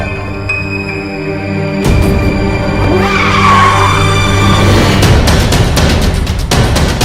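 A car engine idles close by, then the car lurches off and its tyres squeal and skid loudly, with bursts of clatter and noise toward the end.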